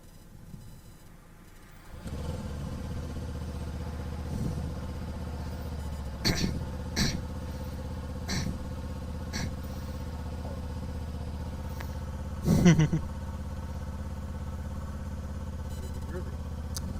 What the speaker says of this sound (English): I'm gonna let the engine warm up